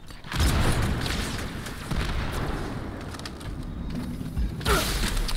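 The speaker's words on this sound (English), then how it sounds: "Let me just grenade him." A grenade explodes in the Halo 2 campaign as a loud, rumbling boom that sustains with crackling debris for several seconds. A second, fainter burst swells near the end, and no one talks over it.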